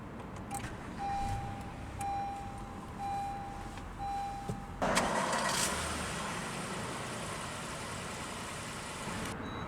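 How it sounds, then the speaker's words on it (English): Push-button start of a 2017 Honda Accord Touring sedan: a brief starter whir that catches into a steady, fairly quiet idle, following a soft chime tone. "let's go ahead and start the engine"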